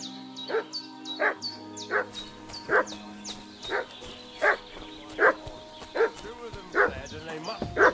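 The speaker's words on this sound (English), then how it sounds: "What's that dog making such a fuss about?" A dog in the medieval Bohemian world of Kingdom Come: Deliverance 2 barks in a steady, evenly spaced series of loud woofs across the whole stretch, set against game ambience and music.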